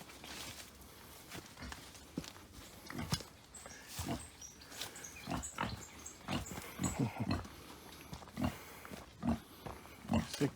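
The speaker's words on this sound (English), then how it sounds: "Sick pig." A sick pig in Jamaica grunts and snuffles in a series of irregular bursts, close and moderately loud, with shuffling movement between sounds and a few faint high chirps in the background.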